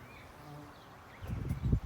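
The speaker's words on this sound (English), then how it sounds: "all the insects flying around this thing. They are going nuts out here. All the bees," Insects buzz faintly nearby, with a louder burst of low droning buzz rising near the end, like bees or wasps flying close past.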